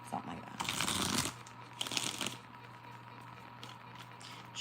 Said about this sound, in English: I gotta get a good shuffle.